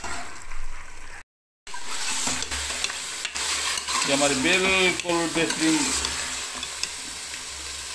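Goat tripe (ojhri) is stir-fried in hot oil in a pan, giving loud, continuous sizzling with bubbling and scraping stirs close by, while someone talks over part of it.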